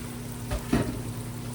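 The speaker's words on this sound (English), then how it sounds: "I have my onion. And I'm going to put all of that in my skillet." Chopped onion frying in a skillet as the base for a roux, a steady soft sizzle with a faint background hum and a couple of brief louder crackles near the middle.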